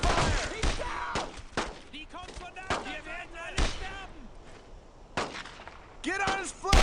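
Bursts of rifle and machine-gun fire crack out in a World War II battle against German paratroopers in Brothers in Arms: Road to Hill 30, sharp repeated volleys near and far with soldiers shouting over them.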